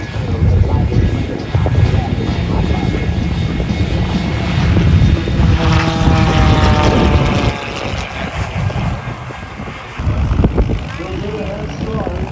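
Solo airplane at an airshow, its engine drone steady and loud throughout alongside a running public-address announcer, with a rising pass near the middle and crowd noise around it.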